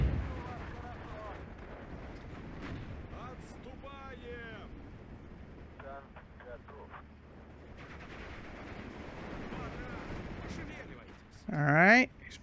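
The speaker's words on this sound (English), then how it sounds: "Artillery-wise, I can start actually calling artillery in." Artillery fire in the Steel Division 2 strategy video game, scattered distant booms and rumbles beneath steady talking, with a louder burst near the end.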